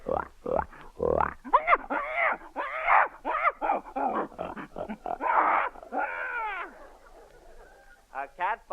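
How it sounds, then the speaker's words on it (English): A 1936 radio sound effect of a pig, performed live, gives a run of moaning, grunting oinks and squeals in quick bursts, close and fairly loud, with no one speaking over it. "A pig."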